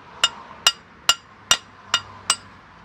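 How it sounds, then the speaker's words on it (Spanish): Six light hammer taps seating a drive axle part on a 2010 Ford Focus, evenly spaced sharp metallic knocks close to the listener, each decaying quickly, with no talking. "Y con un martillo vamos a colocarla. Unos golpes ligeros para que no se dañe la pieza."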